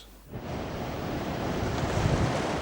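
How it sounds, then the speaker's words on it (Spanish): Steady rushing sea waves and wind wash over the microphone as a small grey World War I submarine slips beneath the surface, a continuous broad roar rising after a brief quiet start. "este barquito gris que acaba de sumergirse bajo las olas"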